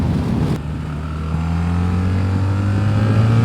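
A BMW R1300 GS motorcycle engine drones and rises steadily while riding two-up in Switzerland, a strong low hum climbing in pitch after a brief burst of wind noise at the start.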